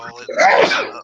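A single sharp sneeze bursts out close and loud, followed at once by someone talking.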